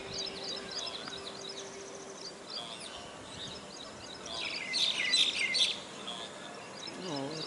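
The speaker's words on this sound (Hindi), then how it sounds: "और पक्षियों का कलरव, आकाश का रंग, ये सभी धीरे धीरे बदल चुके हैं।" Birds chirp and tweet at sunrise. Scattered calls sound at moderate distance, with a louder burst of twittering midway and a low hum under the open-air ambience.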